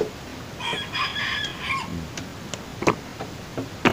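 A Sumatran red junglefowl rooster crows once, a short harmonic call that rises and falls, followed by scattered clucks and sharp clicking sounds nearby.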